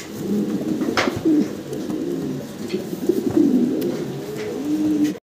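Modena fancy pigeons coo repeatedly at close range, low throaty warbling calls recurring every second or so over faint rustling.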